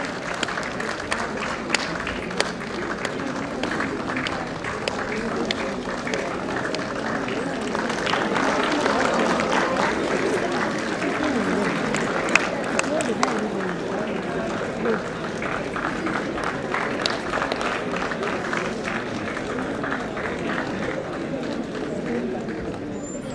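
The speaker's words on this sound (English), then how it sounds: "May everyone give a big round of applause for a person of such strength." Sustained audience applause fills a ceremony hall at a career conclave, a dense, steady wash of clapping from a large crowd lasting throughout, with voices mixed into the noise.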